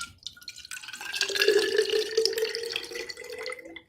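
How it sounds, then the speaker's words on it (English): During an outdoor new moon ceremony, water pours and trickles into a container. A thin stream rises in pitch as the vessel fills, fairly close and gentle, with no talking. "it's dripping on my leg, but I don't care."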